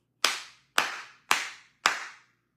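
Four sharp, evenly spaced hand claps ring out close and loud, each with a short reverberant tail, with no voices.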